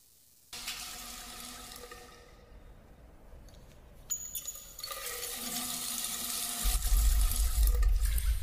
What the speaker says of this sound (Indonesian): Lalu ia juga dikagetkan dengan air keran terbuka satu persatu